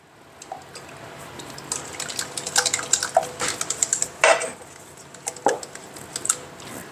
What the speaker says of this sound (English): We're going to start by whisking this egg.